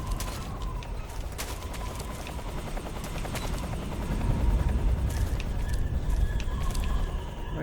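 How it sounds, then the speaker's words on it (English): Helicopter in the video game Metal Gear Solid 3: Snake Eater, a steady rotor chop that swells louder midway, mixed with mechanical clatter and scattered sharp clicks, no speech. "Where's that helicopter?"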